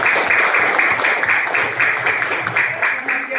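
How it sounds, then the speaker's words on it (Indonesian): Students in a Year 7 Indonesian social studies class clap together, a dense sustained burst of applause close by with steady, even energy and no speech over it. "Berikan aplaus dulu kepada Rasulullah"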